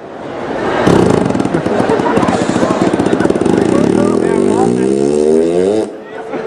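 A voice imitates a Honda motorcycle engine up close, a loud, buzzy revving drone for about five seconds that rises in pitch before cutting off.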